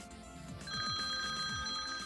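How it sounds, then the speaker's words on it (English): An incoming phone call ringtone plays through a Lexus car's paired Bluetooth multimedia system, a repeating electronic ring pattern with steady tones, moderately loud in a quiet cabin with no talk. "When receiving a call,"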